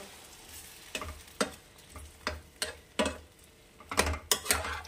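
Potatoes and pointed gourd cooking in a little water over a high flame, with a series of sharp, distinct clinks and scrapes of utensils against the pot at irregular intervals over a low bubbling background, no talking.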